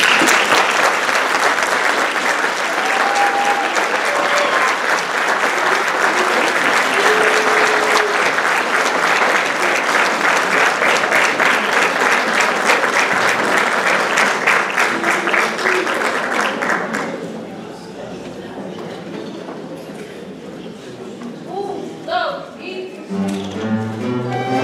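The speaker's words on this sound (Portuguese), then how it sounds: "vamos aplaudir o grupo das Fontinhas da" A carnival audience gives a long, loud round of applause for the Fontinhas senior group, dense clapping that carries on for many seconds, then drops away to quieter room sound with a few voices.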